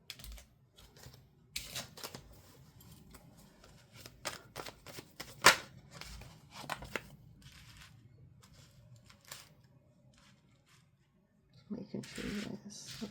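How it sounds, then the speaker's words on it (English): Tarot cards being shuffled, quick papery flicks and riffles coming in scattered bursts, fairly quiet with gaps of near silence and a louder rustle near the end. "The cards are flying everywhere."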